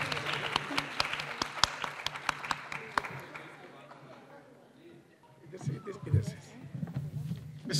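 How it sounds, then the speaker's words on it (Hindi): An audience at an award ceremony for a naat academy bursts into applause for a child winner, dense clapping that fades out, followed by someone speaking over a microphone. "एक दफ़ा भरपूर तालियों से दुआ का फिर से"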